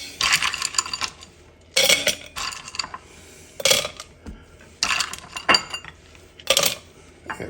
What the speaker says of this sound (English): Now we're going to add some ice to my shaker.